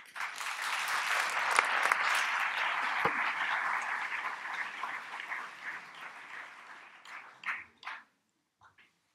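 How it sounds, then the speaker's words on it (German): An audience at a typeface presentation applauds in a dense, steady wave of clapping that gradually thins into a few last scattered claps before silence. "Herzlichen Applaus, bitte."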